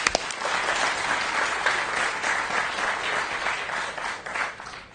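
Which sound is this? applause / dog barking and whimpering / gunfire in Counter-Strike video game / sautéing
applause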